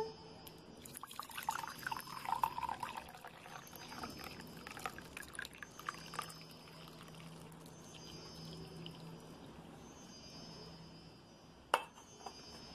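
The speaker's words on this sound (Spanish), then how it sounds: "vamos a agregar el agua" Water is poured into a tea infuser, a faint, steady trickle and splash that runs for several seconds, quiet and close, with one sharp knock near the end.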